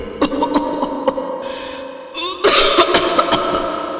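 A woman coughs at midnight in a house, several sharp bursts in two clusters, close and fairly loud over a faint background.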